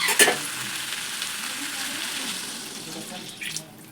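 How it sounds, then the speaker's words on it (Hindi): Water splashes into a hot pan of drumstick, potato and rakhiya bari curry, setting off a loud crackling sizzle that hisses on steadily and then fades. A voice speaks faintly underneath. "हम पानी डाल देते,"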